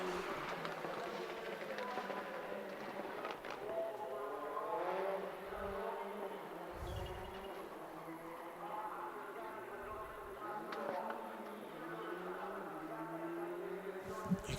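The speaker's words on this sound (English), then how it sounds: "there's the Skoda of Gryazin once again, getting through that tight section very," Skoda rally car driven by Gryazin works through a tight section of the Monza circuit, its engine revving up and down at a distance beneath a commentator's steady talk.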